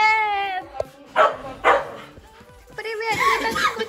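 A small dog barks in a few sharp yips indoors, loud and close, with an excited voice speaking before and after the barks.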